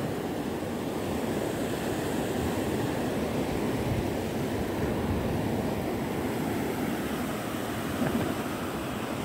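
Steady roar of ocean surf washing onto a beach, continuous and fairly loud, with a touch of wind and no voices.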